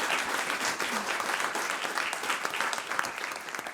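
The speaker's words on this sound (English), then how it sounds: "I would say a round of applause for our panel" Audience applause for a panel after a discussion on financing green buildings, steady dense clapping from a crowd throughout, fairly distant and even in level.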